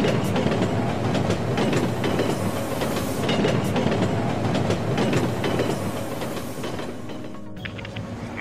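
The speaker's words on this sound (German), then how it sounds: "Bitte Vorsicht, ein Zug fährt durch." An N scale model train passes through a station, a steady clickety-clack of wheels on track with faint squeals, fairly loud and close, easing slightly toward the end.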